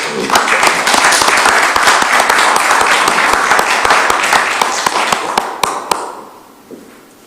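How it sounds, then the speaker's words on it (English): Applause for Tim at a small, physically distanced municipal gathering, with individual claps distinct and fairly close, sustained for about six seconds before trailing off into a few scattered claps. "I think a great round of applause for Tim"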